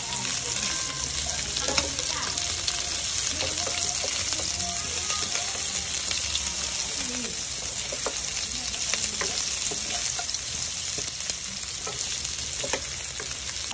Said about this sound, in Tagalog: Yan, halu-haluin lang natin siyang mabuti at gisahin lang natin to.